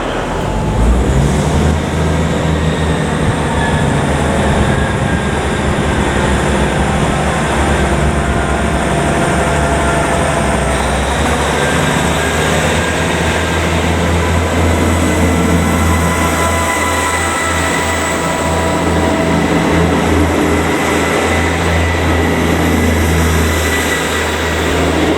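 A train on the Levenmouth Rail Link in Fife, running steadily and loudly past a nearby listener on its first day of operation, with a continuous rumble and wheel noise that slowly fades as it moves away.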